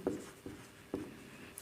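Three short scratchy strokes of writing on a board during a Class 11 chemistry lesson, faint and close, spaced about half a second apart in a quiet room.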